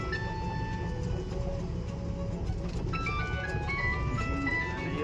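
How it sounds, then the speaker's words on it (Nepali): A school vehicle on a road playing a repeating electronic melody over a constant heavy engine and road rumble, the tune moderately loud and close. "यो स्कुलको गाडी हो कि के हो होइन।"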